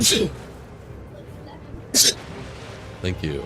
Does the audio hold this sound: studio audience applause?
no